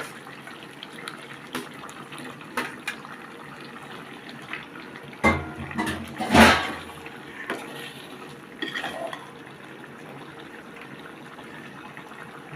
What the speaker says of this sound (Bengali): আমাদের কষা শেষ হয়ে গেছে কাতাল মাছের তেলগুলো দিয়ে দিলেন